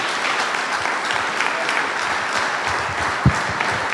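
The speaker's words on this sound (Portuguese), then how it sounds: "Pode aplaudir o Senhor pela vida do professor Fernando" A church congregation at a Christian conference applauds, a continuous even roar of many hands clapping at close range, with a single sharp thump near the end.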